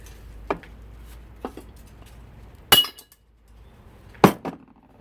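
A hammer strikes a chisel to knock a bearing out of copper scrap, making a few sharp metallic clinks spaced apart. Two light taps are followed by two louder ringing hits, close up.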